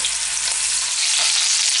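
Beef sears loudly in a roasting pan for a pot roast, a dense, continuous hiss and crackle of hot fat that fills the whole stretch with no talking.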